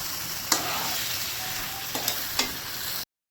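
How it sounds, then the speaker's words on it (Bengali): Leafy greens fry in hot refined white oil, a loud steady sizzle and hiss throughout, broken by a few sharp clinks and scrapes of stirring before it cuts out. "দেখো আমি শাকটা ভাজার জন্য এখানে আমি সাদা তেলটা দিয়ে দিয়েছি।"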